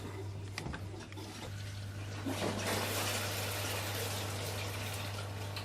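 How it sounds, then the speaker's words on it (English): Water surging through the pipes of a hydroponic strawberry growing system after being switched on, a steady gushing rush that builds after about two seconds and keeps flowing, over a low constant hum. "Let's turn the water on."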